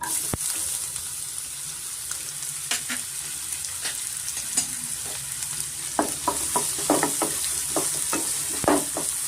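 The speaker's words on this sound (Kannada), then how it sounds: "ಬೆಣ್ಣೆಗೆ ಆದಮೇಲೆ ನಾನು ಆನಿಯನ್ ಸೇರಿಸ್ತಾ ಇದ್ದೀನಿ" Onions frying and sizzling in butter for garlic chicken, with a steady broad hiss and scattered scraping stir strokes that pick up in the second half, close and continuous without talk.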